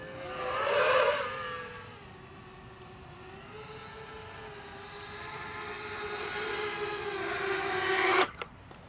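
A small drone running on a DeWalt 4 amp-hour power tool battery hovers and flies with a steady, whining rotor drone that rises and shifts in pitch, then cuts off abruptly as it lands.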